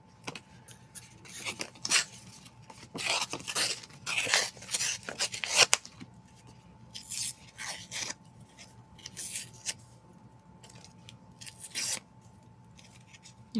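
Patterned paper torn by hand into shapes, dry ripping and rustling bursts arriving in irregular clusters with short pauses, close and fairly quiet.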